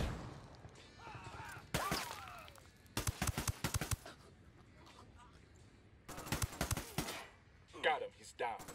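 Gunfire in Ghost Recon Wildlands breaks out in rapid bursts of automatic shots, clustered in two main volleys with a few scattered cracks, mixed with game effects and players talking over the action.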